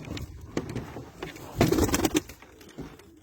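A performing pigeon, a male show bird with a leg band, coos in soft low bursts that swell mid-clip, close by, with faint voices and bird sounds around it.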